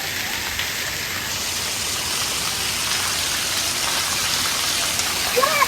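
Heavy rain pours down steadily in Mehsana, a dense, loud, even roar of drops close by, continuous throughout with no talk.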